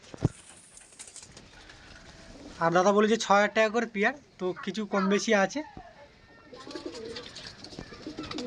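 Golden pigeons coo softly in the background, with a continuous low hum of calls. Someone talks over most of the clip.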